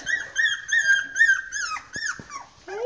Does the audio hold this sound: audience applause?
no